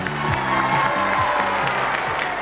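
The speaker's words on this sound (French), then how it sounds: "vous applaudissez le distingué" Studio audience applauding on a 1990 French television game show, Wheel of Fortune, a steady dense wash of clapping and cheering with background music playing underneath throughout.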